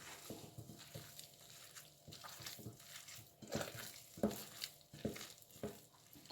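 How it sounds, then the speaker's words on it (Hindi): Hands working a chicken nugget mixture in a bowl, soft wet squelching and squishing in an uneven rhythm of pressing strokes, close and quiet with no talking. "अब मैं इसको हाथ से अच्छी तरह से मिक्स करूँगी।"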